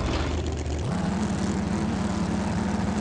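A propeller airplane engine in the video game Dude Theft Wars drones steadily and loudly throughout, its pitch stepping up once early on and then holding a constant buzzing hum.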